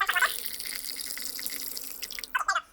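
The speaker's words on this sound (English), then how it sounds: "I'm just going to fill this up with hot water." Hot water from a coffee machine streams into a cup for an Americano, a soft, steady pour framed by brief louder splashing bursts at the start and end.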